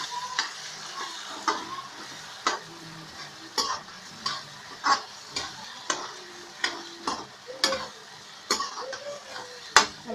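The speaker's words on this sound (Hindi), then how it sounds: "डाल दीजिए और इसको अच्छे से मिक्स कर लीजिए।" Poha with potatoes being mixed in a hot pan, a faint sizzle under a regular run of spatula scrapes and taps against the pan about once a second, close and clear, no speech.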